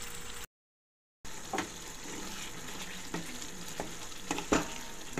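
Chicken frying in a pan gives a continuous close sizzle with occasional scraping and tapping from stirring; the sound cuts out completely for under a second early on, then resumes steadily without any talk.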